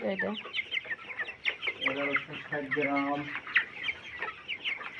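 A flock of 23-day-old farm chickens clucks busily close by, with rapid overlapping calls and brief squawks throughout.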